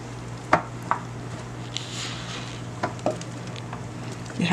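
Hot caramel peanut brittle mixture is tipped into a pan and stirred, giving a few soft scraping knocks and a faint sizzle over a steady low hum, with no voices.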